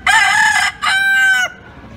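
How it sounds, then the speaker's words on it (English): Two loud, close rooster crows in quick succession, each a long harmonic cock-a-doodle-doo, the second slightly shorter, outdoors at a spot in Bali with no talking. "you could hear the roosters crowing"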